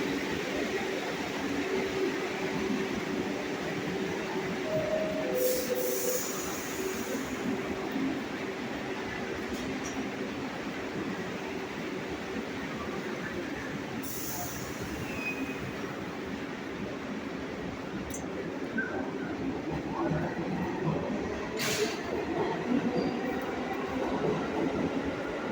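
A New York subway train rides toward a station with a steady, loud rumble of wheels on rails, punctuated by a few brief high squeals and clicks, and no one talking.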